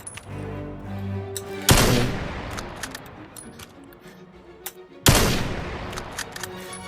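Two loud sniper rifle shots from the VR game Vail, a few seconds apart. Each is a sharp boom with a long rolling tail, with faint clicks and game ambience between them and no voices.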